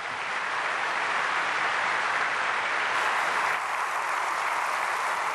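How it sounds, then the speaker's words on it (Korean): A church audience at a prayer meeting for peaceful reunification applauds to welcome Kenneth Bae, producing a continuous, even wash of clapping at moderate volume with no pauses. "케네스 배 우리 박수로 환영해 주시기를 바랍니다."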